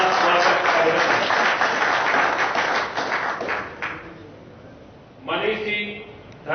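An audience claps to welcome a guest at a public gathering in India. Brisk, close applause fills the first few seconds, then thins and fades out as a voice speaks over it and carries on after.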